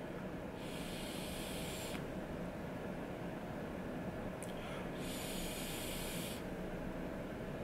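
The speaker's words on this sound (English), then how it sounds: "This is kind of a test that I like to do is see what happens when you blow into it." Air blown into a Veiik Airo pod vape device gives a faint steady hiss, with two longer breathy bursts of airflow rising above the low background.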